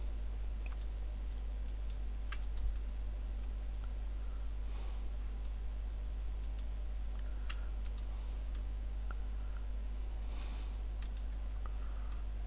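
Computer mouse clicks while grouping lines in a document program, a scattered series of small, close, soft clicks and taps over a steady low electrical hum, with no talking.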